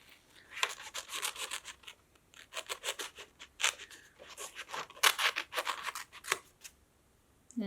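Scissors snipping through paper to cut a triangle, a string of crisp close blade strokes in uneven bursts with short gaps, no talking.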